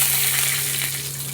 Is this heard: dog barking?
no